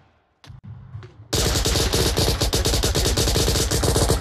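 AK rifle fire in the VR shooter game Onward: after a few quiet knocks, a loud, sustained burst of rapid automatic shots rattles on without a break, close and dominant.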